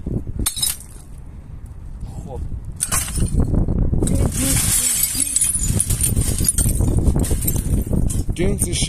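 The glass of a television is broken apart, with repeated crunching, clinking and shattering of shards close by, while people talk throughout.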